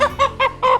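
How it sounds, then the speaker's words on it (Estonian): Chickens on a farm, including a young rose-combed rooster, give four short, close clucks in an uneven rhythm, loud and clear with no talk over them. "Need on kanad."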